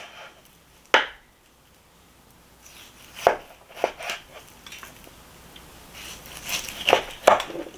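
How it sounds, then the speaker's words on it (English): A Cold Steel Western Hunter knife chops through raw pork ribs, giving a few sharp separate cracks and thuds spaced over several seconds, close and fairly loud, with quieter cutting noises in between. "Cold Steel knife versus some ribs."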